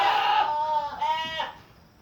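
Goats bleat on a farm, two drawn-out wavering cries close to the microphone, one after the other, with no talking.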